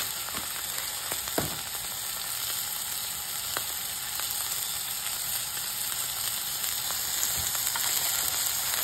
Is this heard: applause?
no